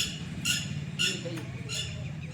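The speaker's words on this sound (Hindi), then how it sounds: "भाई, टिटहरी बहुत ज़्यादा बोल रही है" Red-wattled lapwing (titahri) calling in flight outdoors, three sharp high squawking calls spaced about half a second apart, moderately distant over a low rumbling background with faint other bird chatter.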